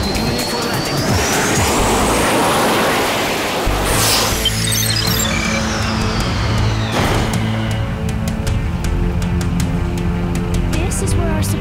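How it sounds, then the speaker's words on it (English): A small aircraft descends to land in an animated action scene, a loud sustained engine roar with a sweeping whoosh partway through, mixed with music and effects. "Now hold on tight. We're coming in for a landing."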